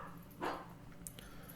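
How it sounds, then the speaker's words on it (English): Dogs indoors in the background: a short muffled bark followed by a faint higher yip or whimper, distant and quiet over room noise, with no talking. "Sorry about the dogs there."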